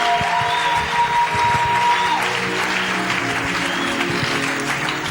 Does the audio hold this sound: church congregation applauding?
yes